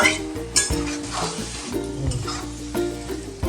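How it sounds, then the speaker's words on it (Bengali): Spice paste loosened with shrimp wash water sizzles in a pan while a metal spoon scrapes and clinks against it in uneven stirring strokes, close and busy, with no one talking. "খুব ভালোভাবে আমি কষাতে থাকবো আর এরকমভাবে নেড়ে দিতে থাকবো"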